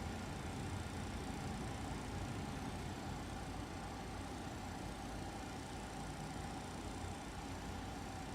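A McDonnell Douglas MD-11F's number 3 engine spins up during start in the flight simulator X-Plane 12, giving a faint, steady, broadband mechanical roar and whine with no speech.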